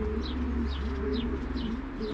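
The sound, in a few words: racing pigeons cooing at the loft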